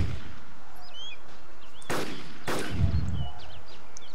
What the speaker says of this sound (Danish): Der bliver skudt dernede. Med Stanak.